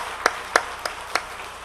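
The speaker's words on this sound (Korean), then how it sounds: "또 그동안 수고한 모든 성도님들께 감사의 박수, 더 잘하는 의미에서 격려의 박수 하겠습니다." Church congregation giving applause, heard here as four sharp, evenly spaced claps about a third of a second apart, crisp and fairly close over a quiet background.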